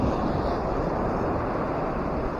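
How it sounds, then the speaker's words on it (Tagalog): Ocean waves crash repeatedly at a shoreline fishing spot, a continuous loud rushing surf mixed with wind buffeting the microphone. "Sunod-sunod na hampas ng alon."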